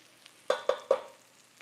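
Vegetables sweat and fry in a pan while a utensil scrapes the bottom, three sharp close scraping strokes in quick succession over a quiet background sizzle.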